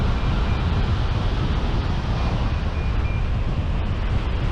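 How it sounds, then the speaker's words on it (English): Steady, loud wind roars across the microphone during a low hang glider flight along cliffs, a continuous broadband rush with no breaks and no voices. "It's difficult getting around that corner because of the wind."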